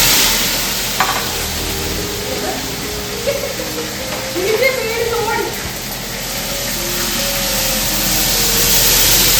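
Tomato frying with ginger-garlic-chili paste in ghee, a steady broad sizzle with stirring and scraping sounds, while a voice talks over part of it.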